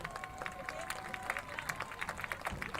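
A high school football crowd applauds the senior cheerleaders, with scattered clapping and cheering spread across the stands, moderately distant and continuous, a few sharper claps standing out.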